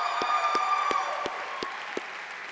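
Audience applause at a high school graduation ceremony, a steady wash of many hands clapping with some tonal crowd noise underneath, moderately loud and continuous.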